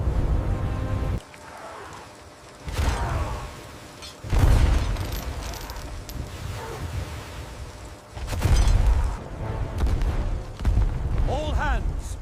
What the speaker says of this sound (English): Prepare the cannons.